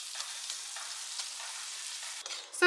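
Boiled rice being stir-fried in a pan for fried rice gives a steady, close sizzling hiss with light scraping. Near the end comes a sharper, louder clatter.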